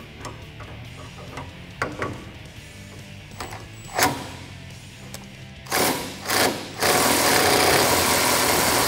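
An impact gun tightens a bolt on the front suspension of a 2009-2018 RAM 1500 during a leveling kit install. Quiet wrench clicks and clatter lead into short bursts, then a loud, sustained rattling whir close by.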